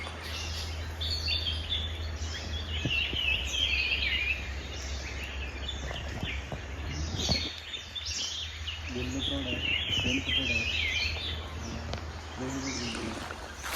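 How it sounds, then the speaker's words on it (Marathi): Forest birds, including Malabar grey hornbills, chirp and call steadily from several directions in Tillari forest, high twittering under a low constant hum, with a few soft knocks. "पक्ष्यांचा आवाज खूप येत आहे"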